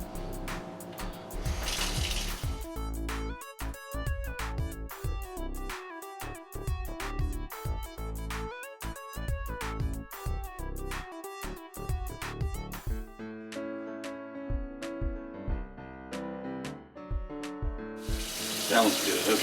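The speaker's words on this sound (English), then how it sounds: "we're scrub down these little micro filters that go on the top of the injector." Small fuel injector micro filters scrubbed under running water, with a continuous tap flow beneath rapid, close, irregular scrubbing and clicking from handling the parts.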